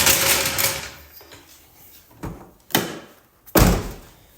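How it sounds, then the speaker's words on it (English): The door of a Honda CRX is worked open and shut, producing latch clicks and a few solid thunks, with the final slam loudest and close. "Door opens and closes."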